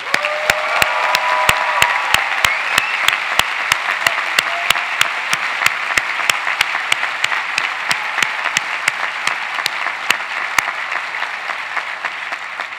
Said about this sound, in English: give them a big, big round of applause